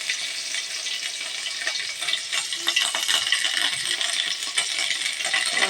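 Onion paste sizzles in hot oil in a pan while cooking hilsa pilau, a steady dense crackle and hiss with scattered pops, close and loud throughout, with no talking.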